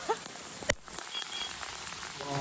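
Heavy rain pours onto a rooftop terrace in the early morning, a dense, continuous hiss of drops with a brief sharp knock near the start.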